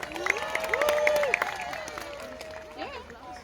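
Spectators at a blue-versus-orange knights' battle cheer and clap for the Blue Knight after a glancing blow, a moderately loud crowd roar with whistles rising and fading over a few seconds.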